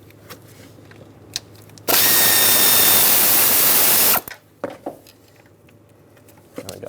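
Intake manifold bolts on a 2003-2009 Dodge Ram 2500 with a 5.7L V8 are spun loose with an 8mm socket: one loud, steady power-tool whir of about two seconds, with light metallic clinks and taps before and after.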